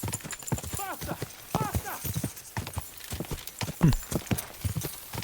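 Hooves clip-clop at a quick galloping rhythm as a horse is ridden in the medieval game Kingdom Come: Deliverance 2, a steady patter of hoofbeats with a whinny, while voices talk over it.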